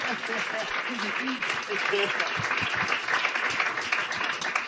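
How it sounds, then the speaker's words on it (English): Dense, steady audience applause fills a radio station's live lounge at a singer's session at Mix 98.5 in Boston. The clapping runs close and continuous for the whole stretch, with voices faintly mixed in. "Let's have a nice round of applause for Beth, who helped her get through..."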